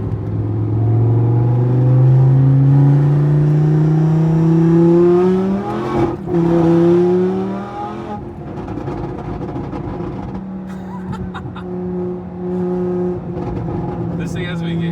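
Supercharged V10 Audi R8 revving at 3,000 to 4,000 RPM, a loud, sustained engine note climbing steadily in pitch, then dropping to a steadier drone, with someone talking over it.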